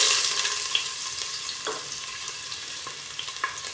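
Ginger sautés in a pan for fish adobo: a soft, continuous sizzle with a few light stirring scrapes, close but fairly quiet, with no talk.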